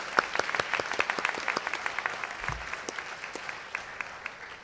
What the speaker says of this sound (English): And we can clap for them.